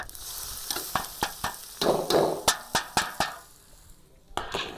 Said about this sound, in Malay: mula-mula sekali kita tumis bahagian ni dulu eh